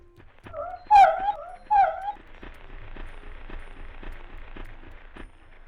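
A dog in the Clock Tower video game yelps in pain after detergent is thrown in its eyes, two sharp, high whimpering cries close together, followed by a low, steady rumble of game background noise.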